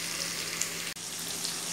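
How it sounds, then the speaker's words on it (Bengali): Pointed gourd (potol) pieces frying in oil with a pinch of salt, giving a steady, even sizzle that stays constant throughout, close and moderately loud with no talking. "পটলগুলো ভাজা হয়ে গিয়েছে আমার"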